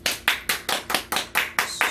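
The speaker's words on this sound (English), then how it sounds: "Can we get the claps?" An audience claps in a steady, even rhythm, about nine sharp close claps spread evenly across a couple of seconds, with no voices.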